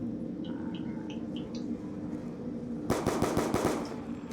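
Rapid bursts of gunfire ring out in Call of Duty Black Ops 2 zombie mode on PC, a short run of sharp shots following quieter game sounds and faint electronic beeps.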